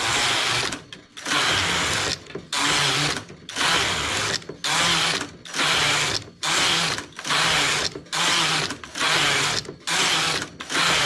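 A domestic knitting machine works through rows of a sweater, its carriage sliding back and forth in steady whirring, rattling passes of about a second each, separated by short pauses.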